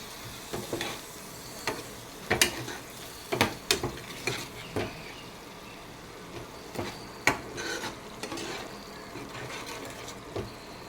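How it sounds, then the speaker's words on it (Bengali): Spice paste with chilli powder, salt and turmeric frying in oil in a pan, a low continuous sizzle broken by repeated sharp scrapes and taps of a spatula. "আমার মশলাটা কিন্তু ভাজা হয়ে গেছে, এ দেখেন সাইড দিয়ে কিন্তু তেল উঠে গেছে"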